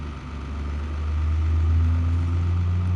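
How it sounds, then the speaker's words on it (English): A loud truck engine rumbling nearby, a deep heavy drone that swells slightly as it passes and stays steady, with no one talking over it. "Sorry, noisy ass truck."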